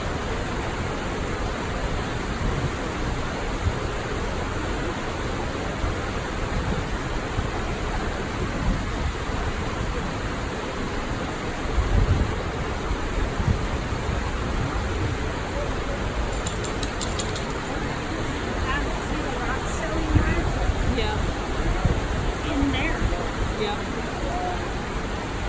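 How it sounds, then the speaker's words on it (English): The Periodic Spring waterfall at Afton, Wyoming gives a steady rushing roar of falling water, continuous and broad, with faint voices briefly under it. "how much the noise and volume of the sound of the falls changed"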